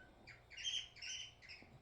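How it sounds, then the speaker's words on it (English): A pet bird indoors gives three loud, harsh squawks in quick succession, fairly close, over a quiet room with no talking. "sorry in advance for my bird"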